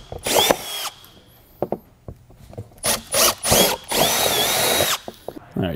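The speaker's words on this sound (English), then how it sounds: "we can go ahead and just drill that out." A power drill bores bracket mounting holes for a Tuson DirecLink trailer brake control module on a 2018 Chevrolet, running in several loud, close bursts of whining spin separated by short pauses.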